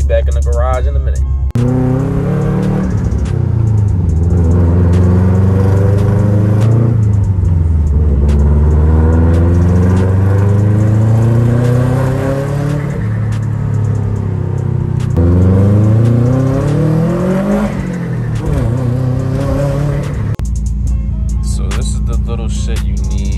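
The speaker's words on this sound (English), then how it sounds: "we're gonna head to the store now in the Subaru" A Subaru car drives along, its engine rising and falling through repeated gear changes in a steady close drone, with a person talking over it.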